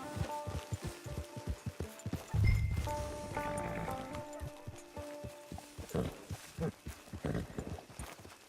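A horse's hooves in the video game Red Dead Redemption 2, a steady clip-clop of walking steps, fairly close and moderately quiet, with a brief low thump partway through and the gait continuing to the end.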